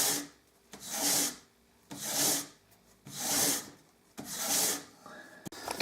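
Flat sandpaper rubs back and forth over a wood inlay in four long, even rasping strokes, each swelling and fading with a short pause between, close and alone with no talk.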